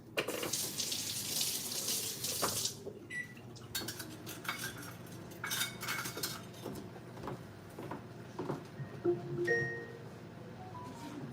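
A kitchen tap runs hard into a sink during washing up, then cuts out, leaving cutlery and dishes clinking and clattering in short scattered knocks nearby.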